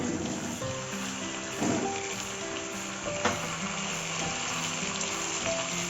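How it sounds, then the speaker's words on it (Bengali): Pointed gourds (potol) sizzling in hot oil in a kadai, a steady close frying crackle that runs continuously with a couple of brief scraping stirs, under soft background music. "তেলটা তো গরম হয়ে গেছে আমি পটলগুলো ছেড়ে দিলাম পটলগুলো একটু হালকা করে ভেজে নেব"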